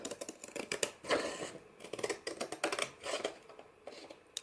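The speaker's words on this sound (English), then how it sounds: "Then with the scissors, I'm going to trim off this excess." Scissors trim excess paper from a handmade rubber-stamped card, giving a run of close, crisp snipping and rustling cuts in quick irregular bursts, with no talking.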